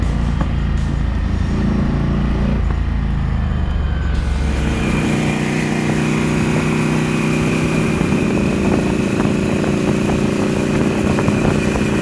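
A Ducati Scrambler motorcycle rides along Topanga Canyon Boulevard, its engine droning steadily and loudly the whole time, with the pitch rising and settling as it accelerates.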